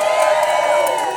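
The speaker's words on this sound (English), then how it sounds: "Can we give Forest for All a big round of applause?" A rally crowd at City Hall Park cheers and whoops with some clapping, a brief loud swell of voices with a sustained shout on top.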